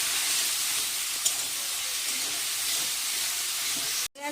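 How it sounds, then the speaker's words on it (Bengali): Ground cumin, coriander, chilli and turmeric powders with a little sugar sautéing in a pan for soybean kosa, giving a steady, close frying hiss that runs throughout and cuts off abruptly near the end. "এবারে খুব ভালোভাবে আগে এটা কষিয়ে নেব"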